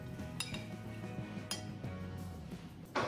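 Light clinks and taps of cutlery against dishes, a few sharp knocks spaced apart, with a louder scrape near the end.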